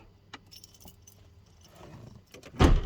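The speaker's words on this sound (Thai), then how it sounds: "บิดกุญแจไปที่สวิตช์ออฟเลยนะครับ" Keys jangle and click as they turn in a Ford Ranger ignition switch, a few light metallic taps followed by a louder rattling clatter at the end, close up and without talk.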